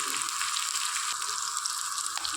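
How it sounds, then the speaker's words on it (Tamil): Onions and curry leaves sizzle in hot oil for a Tamil tamarind curry, a steady, bright frying hiss with faint stirring clicks, close and continuous with no talk. "வெங்காயம் போட்டுங்க நல்லா வாங்கிக்கலாம் கருவேப்பிலை போட்டு"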